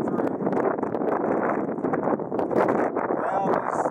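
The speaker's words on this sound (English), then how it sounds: "It's kind of windy, so I'm not sure if this is coming through." Steady wind in Death Valley buffets the microphone with a continuous low rumble and rustle, loud and close, with no voices.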